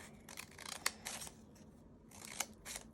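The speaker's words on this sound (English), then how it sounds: "you take your scissors and you cut 3 diagonal lines, all kind of different sizes" Scissors snipping through folded paper for a 3D snowflake, a few quiet separate cuts with short crisp clicks of the blades, close and soft, with pauses between strokes.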